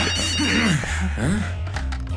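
A telephone rings in the Death Note anime, a repeating electronic trill heard over dense background music and sound effects, fairly loud and steady.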